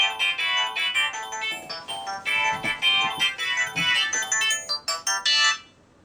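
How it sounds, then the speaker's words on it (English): A phone ringtone plays a bright, rapid electronic melody for about six seconds, loud and clear, then stops abruptly. "that is my ringtone"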